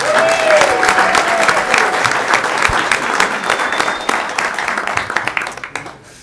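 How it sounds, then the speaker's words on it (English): A large audience at a city council meeting gives a sustained round of applause for a college swim and dive team, loud and dense clapping that holds steady before fading out near the end. "We're going to start things off with a huge round of applause for the Bates Swim and Dive team"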